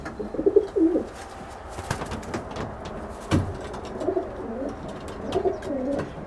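Pet pigeons coo at bedtime, with several soft, throaty cooing phrases, some nearby and some quieter, amid light shuffling and small knocks in a loft.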